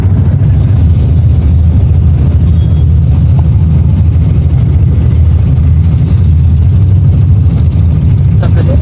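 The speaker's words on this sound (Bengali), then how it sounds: "সেখান থেকে নৌকা একটা নিলাম, নিয়ে এখন যাইতেছি কাশীপুর" A boat's engine runs during a river boat ride toward Kashipur, giving a loud, steady low drone and rumble that holds unchanged from start to finish.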